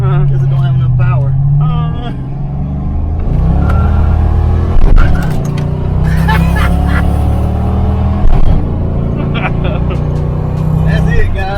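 An old retro Fox body car revs and accelerates hard up through a gear, its steady loud engine drone rising and falling with a few sharp bursts as people talk over it.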